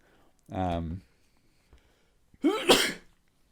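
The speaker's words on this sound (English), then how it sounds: "Oh, I'm sneezing." A sneeze bursting out close to the mic in a quiet room, preceded about two seconds earlier by a short voiced sound, both sharp and loud against near silence.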